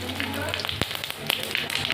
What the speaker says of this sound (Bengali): তেলের উপর দিয়ে দেবো শুকনো লঙ্কা আর সরষে।